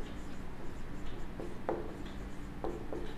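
Chalk or marker writing on a board during a Class 11 maths lesson on mathematical induction, heard as a few short scratchy strokes against a quiet, hum-filled room, with no talking.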